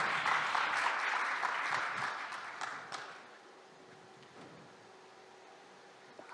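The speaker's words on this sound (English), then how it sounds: "Your applause, please." Applause from an audience at a startup investor pitch event, fairly strong for about three seconds, then quickly fading into quiet room tone.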